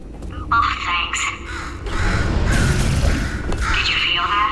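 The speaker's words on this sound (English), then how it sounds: "Could you, murder this bird for me?" A bird caws in Portal 2, a few harsh crow-like calls near the start, followed by a low rumbling boom and more squawks under spoken voices.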